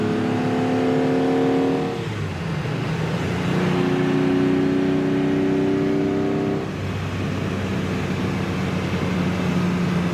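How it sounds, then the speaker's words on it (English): A 1963 Ferrari 250 GT Lusso engine heard from inside while driving in traffic, a loud steady drone rising and falling in pitch through gear changes and revs. "these cars go so well and make that beautiful noise."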